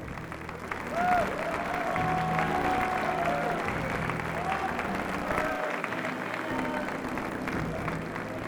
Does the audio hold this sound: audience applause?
yes